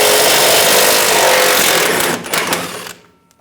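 Impact or power tool on a 24mm socket removes the nut from a rear lower control arm of a 2011-2018 Ram 1500, a loud continuous rattling buzz lasting about three seconds before cutting off.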